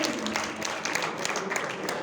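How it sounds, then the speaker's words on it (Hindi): An audience at a kavi sammelan (poetry recital) in Ambala Cantt breaks into steady applause, a dense wash of many hands clapping at moderate loudness that lasts throughout. "खुल के ताली बजाइए"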